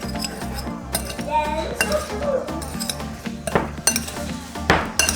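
Eggplant pieces tossed in a bowl while being salted, making clinks and clatters with soft rustling and stirring in a steady near stream, a voice speaking faintly beneath.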